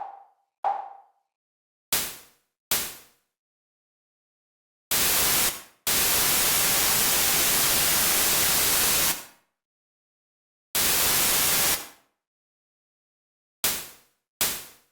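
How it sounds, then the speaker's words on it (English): Bursts of white noise from a software sampler in Ableton, each with a plucky amplitude envelope: several short clipped hits and a few longer sustained blasts separated by silence, loud and isolated. "This is a noise sample in a sampler, and once again with a plucky amplitude envelope."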